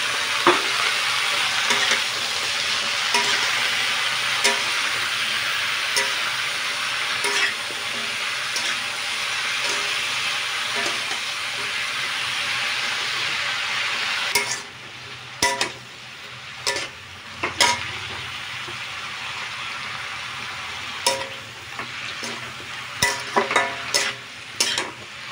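Pumpkin greens frying in a pan, a steady loud sizzle with stirring scrapes, then the sizzle drops away and sharp, separate clatters of the spatula against the pan follow, close by and without speech.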